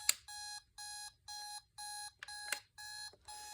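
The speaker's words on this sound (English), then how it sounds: "There's the alarm clock." A vintage Spartus 1102 woodgrain alarm clock ringing in rapid buzzing bursts, about six even pulses with short gaps between them. The ringing is fairly quiet, close and clear, with a couple of sharp clicks and no voices.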